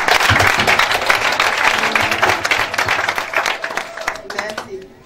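A church congregation breaks into applause, a dense clatter of many hands that gradually thins out, with voices heard over the clapping.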